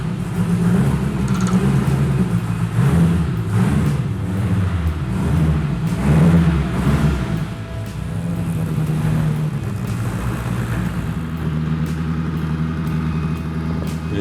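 A Hofstetter sports car engine revs and rumbles close by, rising and falling in pitch through repeated throttle swells before settling into a steadier idle-like drone.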